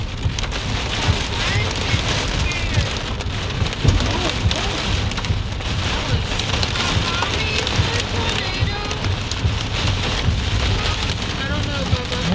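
Steady roar of heavy rain and wind from a hail and rain storm with high winds in Guthrie, with scattered impacts and gusts throughout, while people talk over it.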